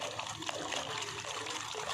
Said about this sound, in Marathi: आता ही पाणी थोडंसं मी डाळीमध्ये घालून घेते